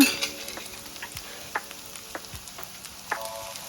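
Steady crackling sizzle of tomatoes frying in a pan, with occasional light clicks of a utensil stirring; no voices.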